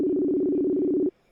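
A telephone ringback tone on an outgoing call, one steady buzzing ring of about a second that then cuts off, with no voices.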